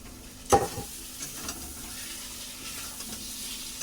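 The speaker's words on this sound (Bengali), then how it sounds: "চলো, আমি এখন ভাজা চিকেনটা দিয়ে দিই।" Fried chicken pieces dropped into sizzling masala in a pan, with a sharp thud and hiss at the start followed by steady frying crackle and a spoon scraping and stirring close by.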